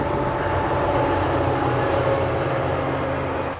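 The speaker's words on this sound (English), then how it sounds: "Train!" A train rumbles past outdoors in a continuous, loud, broadband roar with a steady low drone throughout, and no voices.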